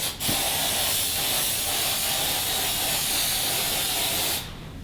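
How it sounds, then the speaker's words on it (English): An aerosol air freshener can sprays indoors in one long continuous hiss lasting about four seconds, loud and close, then cuts off abruptly. "So we're going to spray the funk away."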